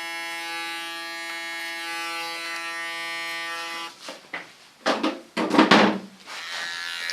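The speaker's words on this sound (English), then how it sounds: "With a small clipper I clean the contour again." A small electric hair clipper hums with a steady buzz during a short haircut, then breaks into uneven bursts as it trims the hairline and small facial hairs close up.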